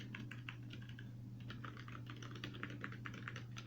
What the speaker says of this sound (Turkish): Bir şu klavyeye basayım.